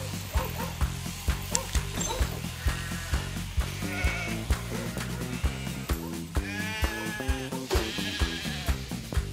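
Sheep bleat in a busy shearing shed where hundreds of animals are shorn daily. Several wavering calls rise over a steady, rhythmic thumping that runs through the whole stretch.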